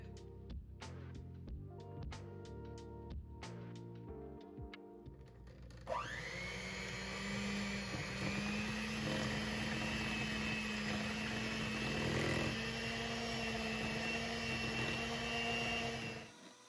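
A mixer beating eggs, oil and vanilla on low for banana bread cake batter. Clicks and taps come first, then the motor starts and whirs steadily and loudly for about ten seconds before stopping.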